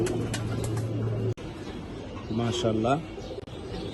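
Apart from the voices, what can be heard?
silver line pigeons cooing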